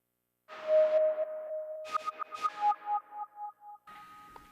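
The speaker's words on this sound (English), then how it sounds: "the other thing that I add for the first time in this track is a sampled instrument, and it's the guitar electric Dusty" A sampled, dusty-toned electric guitar plays alone in a gentle melodic line, opening on a sustained note and moving into a run of plucked, ringing notes that fade out.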